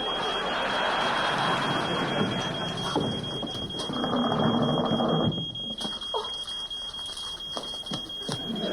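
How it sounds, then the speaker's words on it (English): A smoke alarm's steady high electronic tone rings continuously over a noisy, rain-like background with scattered clatter. "It's a smoke alarm."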